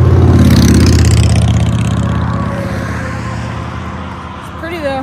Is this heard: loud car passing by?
yes